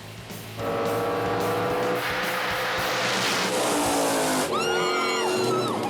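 Drag racing cars launch from the start line at Virginia Motorsports Park, a loud sustained engine roar that surges in after a brief quieter lead-in and holds strong, with rising tonal whines near the end.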